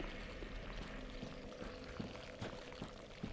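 In the Dark Souls 3 video game, feet step into poisonous swamp water in Farron Keep, giving faint wet sloshing and splashing over a low murky ambience, with no talking.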